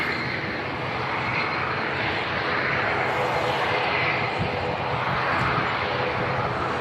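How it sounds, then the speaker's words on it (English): A British Airways shuttle airliner on its takeoff roll at Manchester Airport, bound for London Heathrow, gives a steady, loud, broad engine roar that holds throughout with no talk over it. "Next to depart is going to be the BA shuttle service down to London Heathrow. And the takeoff roll already."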